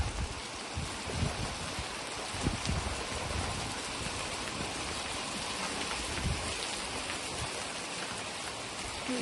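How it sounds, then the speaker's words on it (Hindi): Heavy rain with large hailstones pelting down in a village, a dense, steady roar with scattered sharper impacts throughout, loud and continuous with no voices. "ओले पड़ रहे थे इतने बड़े बड़े।"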